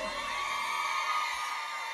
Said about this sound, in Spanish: esta es la hora del grito de las mujeres, un grito